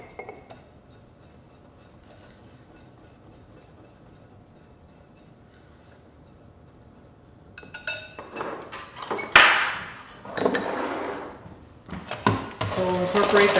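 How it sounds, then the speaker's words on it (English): Salt and dry ingredients whisked together in a bowl, starting after a long quiet stretch as a run of quick, close metallic taps and scrapes with clinks against the bowl. "Whisk that together."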